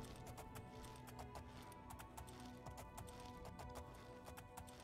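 Horse hooves clopping at a steady run while riding in the video game Oblivion, a continuous rapid rhythm of hoofbeats under a dense, busy game soundscape.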